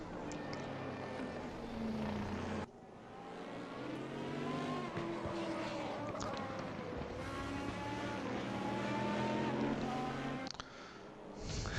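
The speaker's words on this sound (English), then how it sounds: "You hear Patterson's car whining" Race car engines whine and rev in the GTR2 racing game at Mid Ohio, pitch rising and falling through gear changes, with several cars audible and abrupt cuts between engine sounds.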